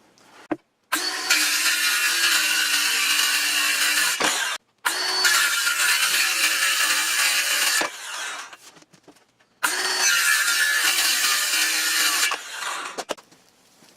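Power saw cutting wood for small closet shelves, three loud sustained runs of a few seconds each separated by brief silences, close by with no talking.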